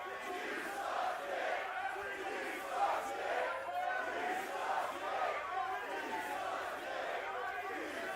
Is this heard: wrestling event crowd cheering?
yes